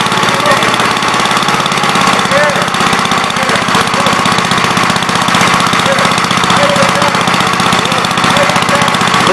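A 42 L engine, not smoking and with no throttle cable fitted, runs steadily with a loud, continuous knocking rumble throughout, while people talk nearby.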